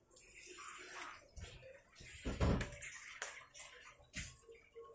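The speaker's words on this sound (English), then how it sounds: "You literally splash water in my leg." Water splashing and running during handwashing at a sink in a home kitchen, with irregular bursts and a louder splash near the middle, faint voices in the background.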